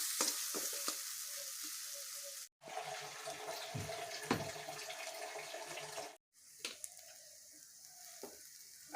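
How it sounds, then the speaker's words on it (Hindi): Water is poured into frying masala in a pan for a matar paneer gravy, giving a loud sizzling burst with stirring and splashing, broken by two brief silent cuts. "देखिए अब मैं इसमें ग्रेवी के लिए पानी डालूँगी।"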